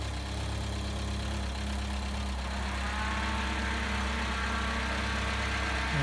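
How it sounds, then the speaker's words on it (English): A 2-litre petrol engine in a Talbot Express camper van idles steadily with a low, even rumble and a faint whirring fan layered on top, close by. "2 litre petrol engine."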